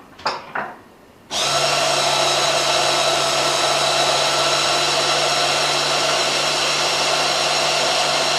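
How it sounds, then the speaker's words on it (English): A food processor blitzing pesto sauce starts after a couple of short clicks and runs as a loud, steady motor whine, close up and constant, with no talk. "Wait till we blitz it."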